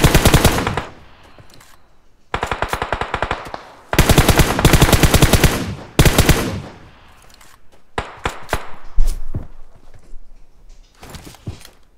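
Automatic rifle gunfire in the mobile battle-royale game PUBG Mobile, several loud rapid sprays of shots separated by brief pauses, then scattered single shots near the end, with no talk.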